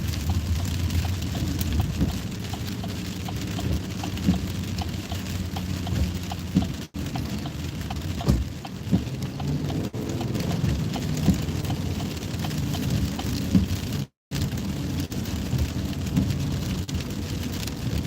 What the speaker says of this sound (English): it's been raining all morning long here at DIA